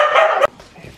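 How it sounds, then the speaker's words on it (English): A new puppy lets out one loud, shrill bark that cuts off sharply, followed by faint, quieter rustling and small noises nearby. "No, she's not crying. She's barking at her."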